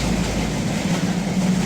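A train rolls steadily along the rails, a continuous rumbling roar with a low hum that stays even and fairly loud throughout, with no voices.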